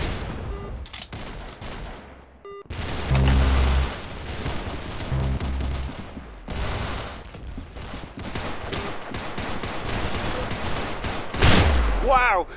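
Rapid gunfire from the Roblox shooter Arsenal, dense bursts of close, loud shots with booming impacts through most of the stretch, separated by brief lulls.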